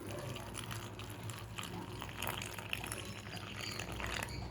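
Hot water pours steadily into a container in a home kitchen, a continuous soft rushing splash at low level with no talking.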